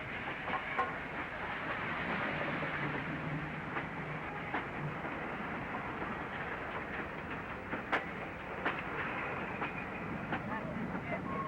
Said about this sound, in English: Flying Scotsman, for the first time in her 40 years, entered the Principality of Wales